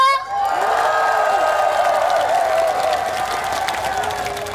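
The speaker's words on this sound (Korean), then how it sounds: "더 크게 박수 함성!" A festival crowd at the Sejong Jochiwon peach festival celebration concert claps and cheers loudly, with whoops and shouts over sustained applause, while a tonal sound rings through the wash and the roar holds steady throughout.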